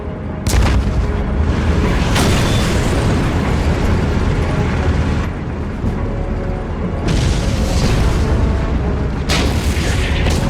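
Tank cannon fire and explosions from the World War II strategy game Codename: Panzers, Phase Two, as British armor attacks near Bir Hakeim: loud, dense rumbling blasts with a few sharp bursts, running continuously with brief lulls.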